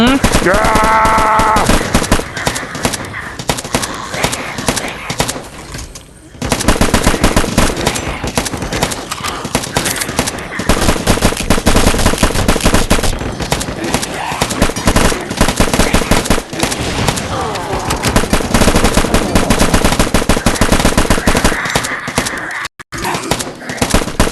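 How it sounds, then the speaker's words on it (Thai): Sustained automatic machine gun fire in the LifeAfter survival shooter game, loud rapid bursts running almost continuously with a couple of short pauses, with faint voices under the shooting. "ราดกระสุน"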